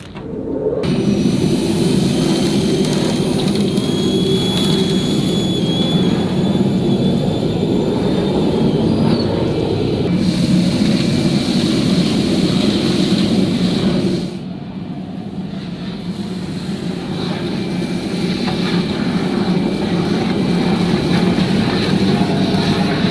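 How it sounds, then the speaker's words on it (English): An industrial vacuum pulls material from under conveyor belts through a narrow DN60 suction hose, giving a loud, continuous roaring whoosh with a high whine that shifts tone partway through and never stops. "how to extract material from under conveyor belts or machines with a smaller hose, here a DN60 millimeter suction hose"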